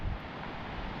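Brief gusty seaside wind buffeting the microphone, a low rumbling roar with no voices.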